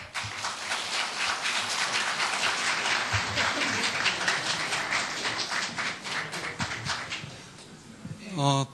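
Audience at a Jeju candidates' campaign rally claps steadily and loudly for about eight seconds, a dense, sustained wash of hands that thins briefly near the end.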